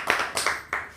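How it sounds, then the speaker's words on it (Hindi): Three sharp hand claps in quick succession, close by and fairly light, like the start of brief applause. "तो जी माहम रहमान के लिए तालियां।"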